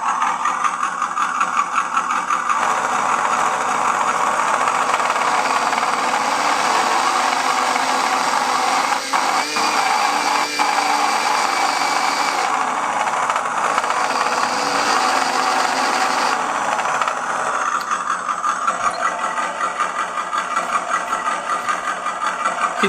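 A sound module in a 1/10-scale WPL C74 RC Suzuki Jimny, set to low volume, plays a synthetic engine hum that rises steadily with a bit of throttle, buzzing continuously with a brief blip in the middle.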